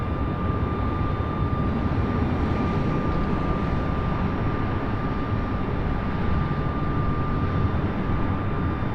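An American Airlines Boeing 737 departs Raleigh-Durham airport with a steady, dense jet roar and a thin, constant high whine, loud and unbroken for the whole stretch.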